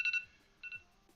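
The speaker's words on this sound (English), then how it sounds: "Okay, that's my alarm." A phone alarm goes off during a coding session, sounding as two quick paired electronic beeps repeated twice in about a second, close and clear over a quiet room.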